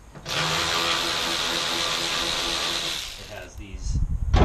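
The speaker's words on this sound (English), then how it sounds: "Alright, gonna take the top off of this battery pack. Start with the security bolts." A power tool whirs loudly and steadily for about three seconds as it backs security bolts out of the battery pack top on a 2011 Nissan LEAF donor car, then winds down into clanking handling noises.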